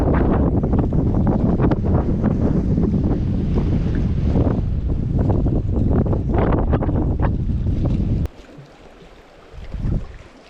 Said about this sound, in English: Oh, that wind's horrible.